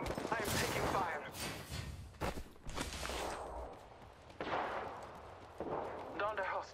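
Rapid bursts of gunfire in Apex Legends, loud and dense with overlapping shots and echoing blasts, interrupted by short pauses, with in-game voice callouts audible among them.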